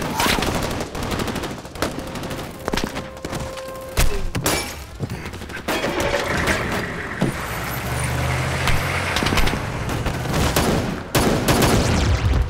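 Rapid gunfire bursts and explosions from a battle scene in the Korean disaster film Ashfall, with US troops firing, mixed with vehicle engine roar and shattering debris, loud and continuous.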